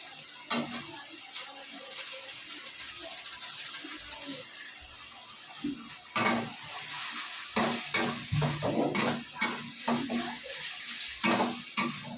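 Spices frying in oil with tomato sauce and Kashmiri chilli powder stirred in, a continuous close sizzle marked by repeated scraping and knocking of a spoon against the pan.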